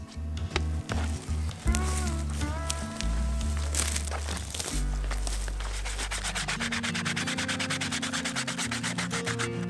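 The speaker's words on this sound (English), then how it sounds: "We'll just have to sand them down." Steady, close sanding of rough cedar log slices being shaped into wooden plates, a continuous loud abrasive rubbing that turns into a rapid rhythmic scrubbing, with no talking.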